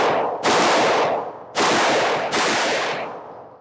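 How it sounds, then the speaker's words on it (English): An SMG loaded with a 32-round magazine fires three long, loud, close full-auto bursts in real life, each a harsh continuous roar with brief gaps between. "Man, that SMG sounds a lot louder in the real life."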